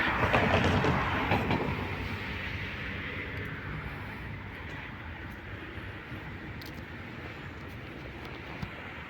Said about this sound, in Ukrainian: І ось він вже трамвай.